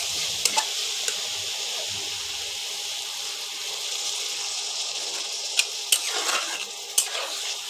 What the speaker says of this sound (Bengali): এবার নেড়ে নিয়ে জল দিয়ে দেবো